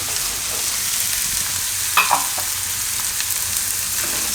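Chopped capsicum is stir-fried into besan bhurji in a pan, giving a steady close sizzle with a brief clatter of the spoon midway and no talk.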